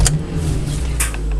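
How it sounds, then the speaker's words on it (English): A Citroen Nemo van converted to LPG idles on petrol just after starting, a steady low engine hum close by with a couple of faint clicks. "when you put the ignition on, it will start up on petrol"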